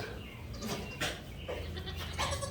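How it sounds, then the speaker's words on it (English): Baby goats bleating among a group of kids, several overlapping bleats close by over a steady background. "Look at all the goat babies."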